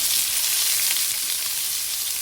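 Chana dal and cumin frying in hot oil after mustard seeds have spluttered, a steady bright hiss and sizzle held close and even throughout, with no talking.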